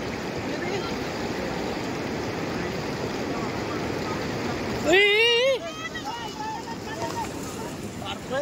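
Swollen flood water rushes over a river causeway at Ashtane village as a steady, loud, broadband roar, joined midway by excited voices shouting over the torrent.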